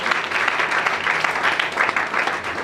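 Church congregation applauding and cheering at a lively worship service, a steady dense wash of clapping and voices that holds at an even loudness throughout.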